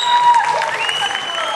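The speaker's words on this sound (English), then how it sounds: "Let's give them a big round of applause." Crowd applause at an outdoor Walk to End Alzheimer's event in Muskegon, brief scattered clapping mixed with whistles and cheering, fairly close and loud.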